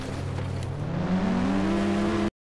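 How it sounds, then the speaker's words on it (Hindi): Three cars driving together in the Indian Bikes Driving 3D video game give a loud, continuous engine drone that revs upward in pitch, then cuts off abruptly. "देख सकते हो तीनों कार एक साथ चल रही है"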